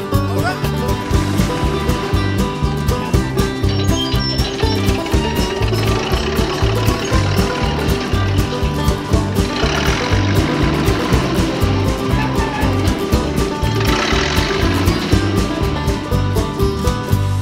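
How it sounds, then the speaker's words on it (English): Big farm tractor engines chug loudly and steadily, a dense rhythmic knocking that carries on throughout with a faint musical backing underneath. "great big engines, and this is what they sound like."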